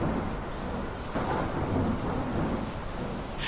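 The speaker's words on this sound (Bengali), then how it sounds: "পৃথিবী তখন ঝড় বৃষ্টিতে ভেসে যাচ্ছে" A thunderstorm with heavy rain: a dense, continuous roar of downpour with low rumbling thunder rolling underneath, close and steady throughout.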